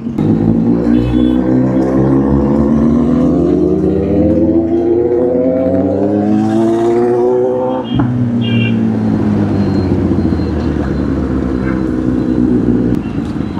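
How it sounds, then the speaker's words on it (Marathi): Two Kawasaki Z800 inline-four motorcycles ridden together, their loud combined engine note rising and falling through revs and gear changes, close and continuous throughout. "सेक्सी साऊंड यायला लागले 2 गाड्यांचे मिळून"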